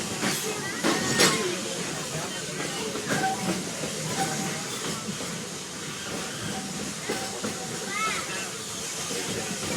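Steam passenger train at the Magic Kingdom rolling on its rails, a steady broad hiss and rumble with faint clicks, carried along continuously under a busy theme-park background with voices nearby.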